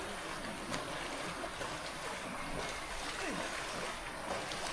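Steady broadband rush of a deep river flowing as horses wade across it, continuous and fairly loud throughout without pauses, with faint voices in the background.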